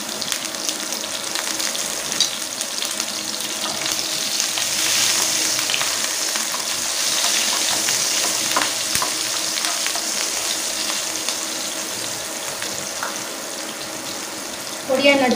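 Chopped green chillies frying in tempering oil with mustard seeds and curry leaves, a loud continuous sizzle and crackle close by, with faint stirring.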